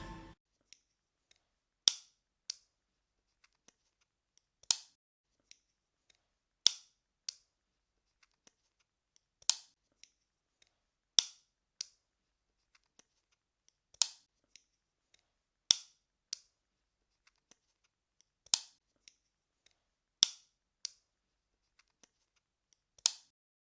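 Repeated sharp plastic snaps from an IKEA plastic clip being opened, roughly a dozen crisp clicks spaced a second or two apart, some in close pairs, close and clean against a quiet background.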